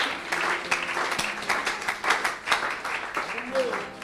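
Church congregation applauding and clapping in praise, a dense, steady wash of many hands close by with shouts and voices mixed in throughout.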